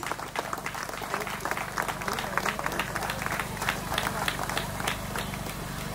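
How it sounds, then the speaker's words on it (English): Outdoor audience applause at a 5k run prize ceremony on Necklace Road, Hyderabad: steady, dense clapping fills all six seconds at an even level, with a low crowd murmur underneath. "Can we have a round of applause, please?"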